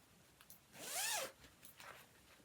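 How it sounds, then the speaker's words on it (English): A zip on a hand-knitted piece, set along its bottom edge, is pulled once in a single quick, close, faint rasping sweep, with quiet room tone around it and no talking. "on the bottom I have inserted a zip"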